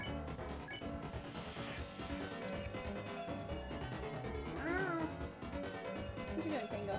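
A pet cat meows twice, fairly faint and brief, under a busy bed of game music.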